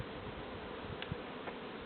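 Honey bees buzzing around hives in a dense, continuous drone, close by, with a few individual insects flying past.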